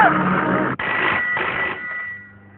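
A telephone rings with a steady electronic trill that breaks off briefly and resumes, then fades, heard alone at moderate volume in a Hindi drama scene.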